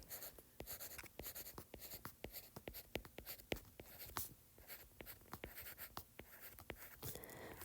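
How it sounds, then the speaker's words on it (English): A pen writing notes on paper, close and quiet, with a steady run of quick scratchy strokes and sharp taps over several seconds and no talking. "so let's go ahead and write that down"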